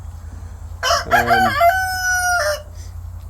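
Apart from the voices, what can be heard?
farm birds crowing and clucking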